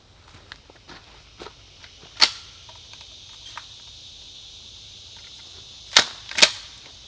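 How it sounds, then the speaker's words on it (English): Shotgun blasts from a 20 gauge loaded with buckshot: a single sharp report near 2.2 s, then two more close together near the end, with faint scuffs and small knocks in between and no talking. "we're going to shoot the 20 gauge buckshot because it has the smallest pattern"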